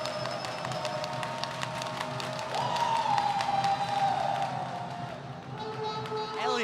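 A basketball arena crowd at a professional ASEAN Basketball League game, Saigon Heat vs. Hong Kong Eastern Long Lions, roaring steadily after an and-one basket, with squeaks and a rising whistle-like tone over the sustained crowd noise.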